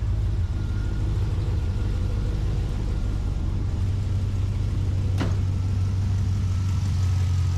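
An LS2 V8 fitted in an early 79 series ute idles with a loud, steady, low rumble that holds even and smooth throughout, with one brief faint click partway through and no voices.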